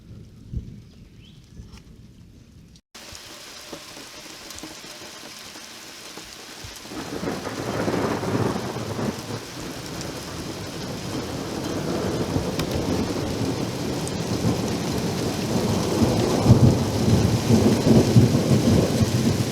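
Thunder rolling through a heavy rainstorm, a deep rumble building after a quiet start and swelling over steady, loud rain drumming on surfaces, with no voices.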